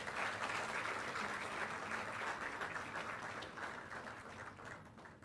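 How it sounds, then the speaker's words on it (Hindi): Sustained applause from a ceremony audience honouring the chief minister at a civil services event in Panchkula, a dense steady wash of clapping that holds for several seconds and thins slightly toward the end. "जोरदार तालियां आप सबकी तरफ से"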